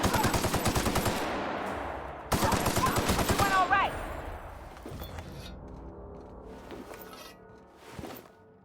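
Automatic gunfire rattles in dense bursts during a firefight in The Outer Worlds video game, with sharp shots cutting out and restarting, then scattered single shots and a final boom as the fight thins out.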